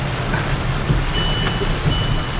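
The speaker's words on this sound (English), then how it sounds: "Maybe your beeping was so loud that he heard it and he thought it was an indicator." A vehicle's electronic warning beeper repeats steadily over a loud, continuous rumble of road and engine noise.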